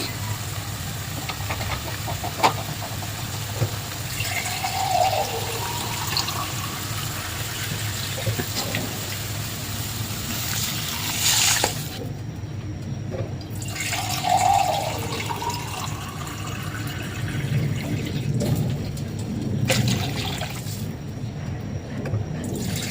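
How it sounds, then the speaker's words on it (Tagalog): Water pours into a cooking pot of odong noodles with leftover fried fish, a steady splashing stream that runs for long stretches, pauses briefly, then resumes, fairly close and moderately loud with a low hum beneath. "Lagyan natin ng tubig."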